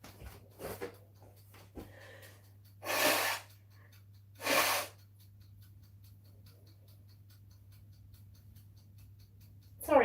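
Two short, loud bursts of nose-blowing a second or so apart, close to the microphone in a quiet kitchen, with a low steady hum underneath and faint rustles.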